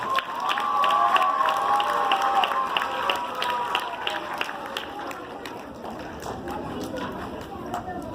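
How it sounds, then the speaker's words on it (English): An elementary school audience gives a big round of applause for blues guitarist Dave Fields, a loud, dense crowd clapping with cheers and children shouting, fading slightly toward the end. "So give him another big round of applause."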